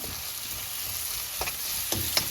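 Onions sizzle steadily in a pan, with a couple of brief scraping stirs from a steel spoon cutting through the constant frying hiss; no voices.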